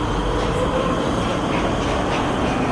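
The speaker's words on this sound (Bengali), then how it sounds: "মেট্রোটা শব্দ করে বেরিয়ে গেল।" A metro train pulling out of a station in Tollygunge, a loud, continuous rumble and rattle of wheels on rails that holds steady throughout.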